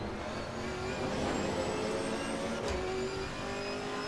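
A GT4 race car engine drones steadily in the Assetto Corsa Competizione video game, a continuous fairly quiet mechanical hum with slowly shifting pitch and no talking.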